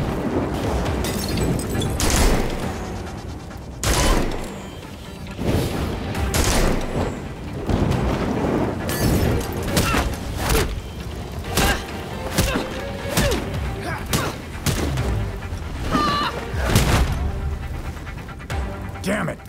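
Repeated explosions boom and crack in the video game Gotham Knights, a dense, irregular barrage of loud blasts and thuds with gunfire-like bursts layered over a rumbling background.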